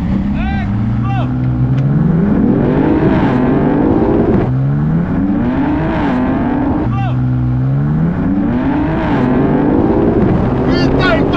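A 912-horsepower BMW M3 and a Lamborghini Aventador accelerating hard in a drag race, loud engines climbing through gears with repeated rising revs and shifts, close and continuous, with a voice talking over it.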